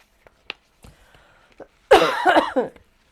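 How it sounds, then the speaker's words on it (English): A loud, close fit of coughing erupts after a few faint clicks and breaths, rough and choppy for under a second. "I really am like trying to edit out all the coughing."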